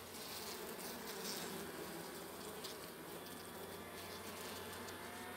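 Honeybees buzz at a weak hive, a dense, steady swarm hum with no pauses, fairly quiet and close, with no voices over it.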